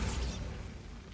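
Bombarda blasting spell cast in the Hogwarts Legacy video game: a broad, loud whooshing burst that fades out over about a second, with no talking.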